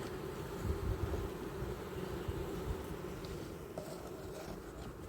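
Honey bees swarm around an opened beehive during an autumn inspection, a steady close buzzing drone filling the air without pause.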